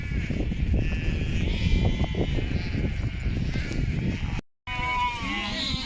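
Sheep and lambs bleat on a farm as the flock is brought in, with several close, overlapping bleats over a busy pen background and a short break before more calls.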